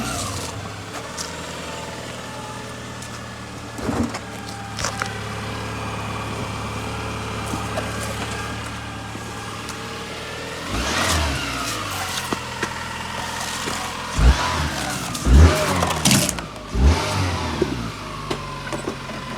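A 1994-99 Toyota Celica V6 GT4 replica, fitted with a new fuel pump and known for whining, cranks and catches, then runs at a moderate idle with a few sharper revs and clunks toward the end.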